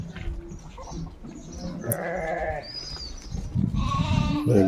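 Sheep bleat repeatedly from a nearby flock in a remote Telangana village, overlapping calls rising and fading over a low background rumble of movement.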